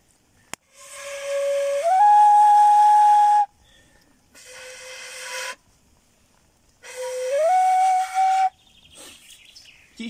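A homemade flute cut from an angelica stem plays three breathy whistling notes outdoors, each starting low and sliding up to a steady higher pitch, with short pauses between them and faint birdsong near the end.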